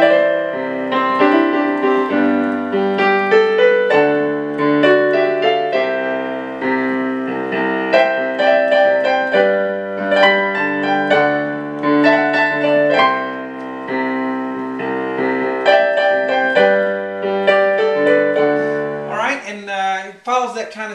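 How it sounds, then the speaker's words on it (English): A piano solo from a live acoustic recording plays in a country style, with lively melodic runs over chords for about twenty seconds before a brief scrubbing sound at the end. "The piano part starts about a minute 40 into it, and it sounds like this."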